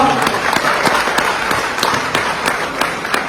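Applause from a crowd at a BJP traders' conference rally, a dense, steady patter of many hands with sharper individual claps standing out, filling the moment with a murmur of voices mixed in.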